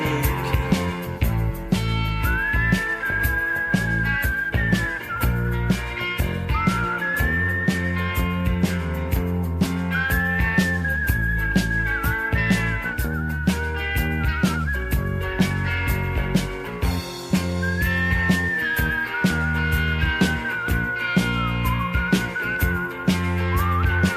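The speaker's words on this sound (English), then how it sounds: "I picked one of the tracks that I think is again, more difficult, the whistling song. Let's hear their whistling part." A whistled melody from a song recording, repeated sliding whistle phrases riding over loud full-band music with drums, guitar and bass throughout.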